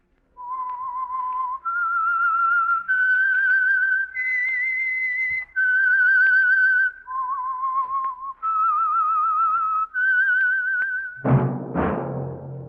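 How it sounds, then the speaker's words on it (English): A lone whistler carries the signal theme of The Whistler radio program, a clear melodic tune of sustained held notes stepping up and down, loud and close, ending with a brief burst of orchestral sound. "That whistle is your signal for the Signal Oil Program, The Whistler."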